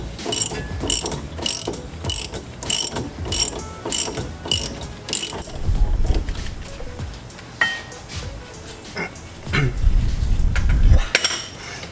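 A hand ratchet clicks rapidly while loosening a 15mm strut bolt on a 1999-2004 Ford Mustang Mach 1, with bursts of close metallic ratcheting, then clanks of metal parts and tools in a garage.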